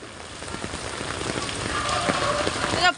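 Steady rain pours down on a flooded village street with knee-deep water, a dense continuous patter of drops hitting surfaces close by, holding loud and unbroken throughout.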